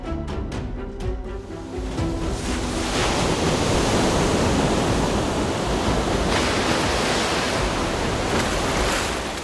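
Water flows in a heavy, steady roar, loud and continuous like a falling torrent, with a rushing wind-like hiss filling the whole scene and no voices.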